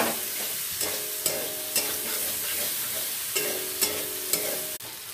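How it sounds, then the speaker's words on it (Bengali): Spices sautéing in a pan, a steady sizzle of frying broken by scraping stirs at a slow, uneven rhythm, close and fairly loud with no talking. "এই যে মশলা দিয়ে দিলাম, মশলাটা দিয়ে ভালো করে কষিয়ে নিয়ে"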